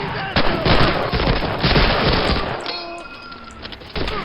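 Rapid bursts of WWII gunfire in Medal of Honor: Allied Assault on the Breakthrough mission, loud rattling machine-gun fire and rifle shots close by, tailing off into scattered distant shots.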